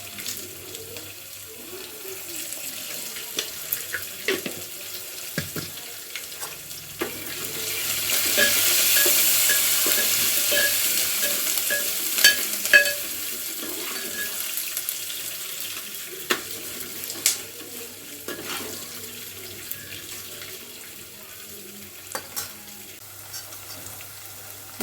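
Curry leaves and rock salt crackle in hot oil in a pan for an upma tempering, a steady sizzle with scattered pops and a louder burst midway, heard alone without talk.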